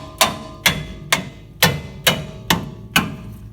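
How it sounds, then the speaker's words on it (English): Seven sharp metallic taps of a hammer on a car's front strut bolt, evenly spaced about half a second apart, close and ringing briefly after each strike. "Bit of a tap with a hammer."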